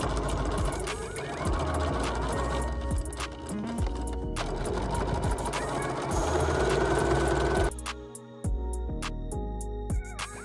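A sewing machine stitches two bucket hat brims together along the bottom edge at a 1/4 inch seam, a dense continuous whir for most of the stretch, followed by quieter, sparser mechanical taps.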